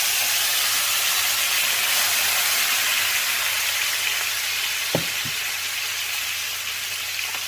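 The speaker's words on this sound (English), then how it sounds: "I'm going to go ahead and pour this into the cast iron skillet." Melted butter hisses and sizzles steadily in a hot cast iron skillet while a ribeye steak cooks, a loud continuous spitting sizzle broken by a brief metallic clink, with no talking.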